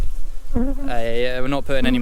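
Honey bees bearding in a dense cluster on the outside of a hive at harvest time make a steady, close, droning buzz. The pitch wavers and swells as the bees shift, with no talking.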